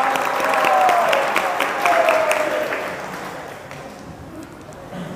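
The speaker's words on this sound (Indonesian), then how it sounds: "tepuk tangan untuk rekan kita Bintang." A classroom audience applauds a classmate, a burst of clapping that swells early, holds briefly, then thins out, with voices mixed in over the clapping.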